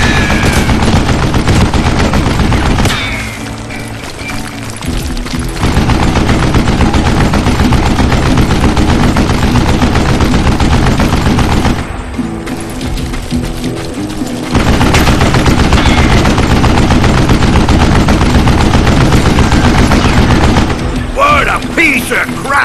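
Sustained, loud machine gun fire in the Western shooter game Call of Juarez Gunslinger, dense and continuous with short lulls, mixed with in-game voices.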